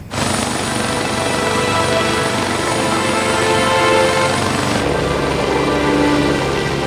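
A helicopter's rotor and engine drone steadily and loudly throughout, with a continuous broadband roar that shifts slightly in tone partway through; no voices.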